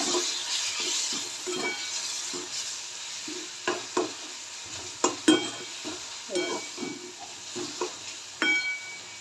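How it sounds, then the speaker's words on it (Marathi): A spatula stirs spiced masala with tomato and cumin for an egg curry in a pan, giving irregular close scrapes and clinks over a soft continuous sizzle, with no talking. "आता हे व्यवस्थित मिक्स करायचे आपल्याला"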